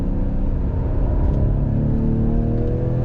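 A 2021 Ford Edge ST SUV engine accelerates under throttle, a steady loud rumbling drone with harmonics climbing gradually in pitch as revs build, heard from inside the cabin with no talking.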